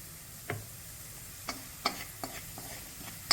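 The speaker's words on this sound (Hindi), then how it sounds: "नमक डाल दिया, अब इसे मिक्स करते हैं।" Roasted spices and salt are stirred in a frying pan, giving faint, sparse scrapes and soft taps at irregular intervals over a quiet background.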